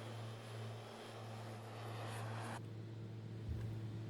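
Steady, even drone of a Beechcraft Bonanza single-engine propeller plane in Microsoft Flight Simulator 2024, a constant low engine hum with a faint airy hiss that drops away partway through, no voices.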